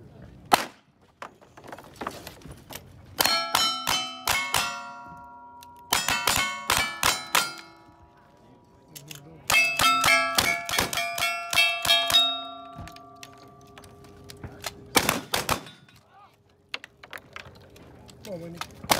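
Rapid gunshots strike steel targets at a Winter Range 2020 top-16 shoot-off, a cowboy action shooting competition, each crack followed by a bright ringing clang, fired in quick bursts with short pauses, while a voice talks between strings.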